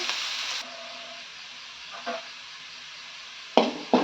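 Onions frying in hot tempering oil, a soft steady sizzle with a brief stir around the middle and two sharp, louder crackling bursts near the end.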